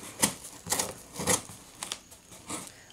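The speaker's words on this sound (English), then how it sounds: "I'm just trying to cut the tape" Tape being cut during work on a Tamiya radio-controlled car, a few close, crisp snipping and crackling bursts in quick succession, no speech.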